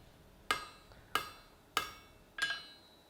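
Four sharp, ringing hammer blows on a steel bar being upset at the forge, evenly spaced about half a second apart, close and clear with metallic ring decaying after each strike.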